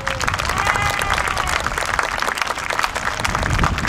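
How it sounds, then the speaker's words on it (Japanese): An outdoor audience at a jazz street festival in a school ground applauds a university jazz orchestra, with dense, sustained clapping from a sizable crowd that carries on steadily without pause. "京都大学ダークブルーニューサウンズオーケストラの皆さんに拍手お願いします。"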